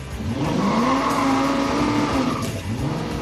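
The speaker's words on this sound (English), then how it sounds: "The tires are squeaking." Car tires squeal loudly and steadily for a few seconds on a hot rod in a garage, with engine noise underneath and no talking.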